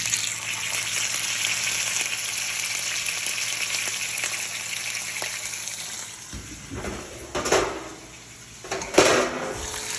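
A pan of bacon fries in a deep pool of grease, sizzling steadily and loudly with pops and bursts of spatter that flare up near the end.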